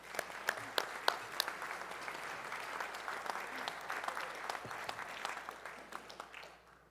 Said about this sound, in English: So an applause for Roberto.